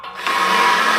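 A power drill whines steadily at close range during a Jeep JLU frame-mounted rock slider install, the motor ramping up briefly at first and then holding a constant hum without talk.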